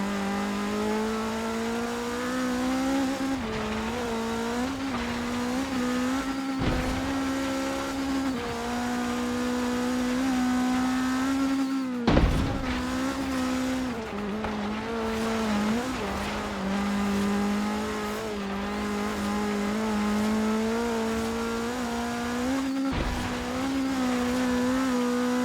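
Engine roar of a race car driven through the Kiewa Valley uphill climb in the video game Forza Horizon 3, a loud continuous tone rising and falling with gear changes, with brief dips and a sharp transient midway, no talk.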